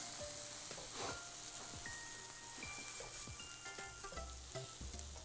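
Cheese-stuffed green pepper meat rolls sizzle steadily in a pan over heat lowered from high toward medium, a close, continuous frying crackle with scattered pops and light stirring clatter.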